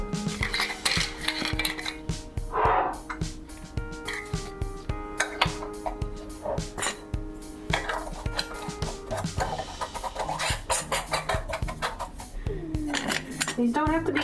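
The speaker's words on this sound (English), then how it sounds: "Alright, now we're going to take our lids." Metal canning jar lids clink and rattle against each other and the glass jars in a boat galley while meat is being canned, with light repeated metallic taps and scrapes under faint background music.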